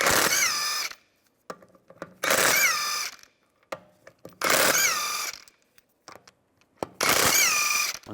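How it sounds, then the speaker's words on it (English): Power tool with a 17mm socket spinning out lug bolts on a 2004-2010 BMW X3 rear wheel: four loud whirring bursts with short ratchety clicks and clatter in the gaps. "Use a 17mm socket to take the lug bolts out."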